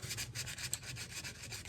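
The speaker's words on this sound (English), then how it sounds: "This is sanding nicely, and to be quite honest with you, I've never sanded epoxy," Hand sanding of hardened epoxy on a small antler repair makes a soft, steady rhythmic rasp, quick back-and-forth strokes at close range with no voices.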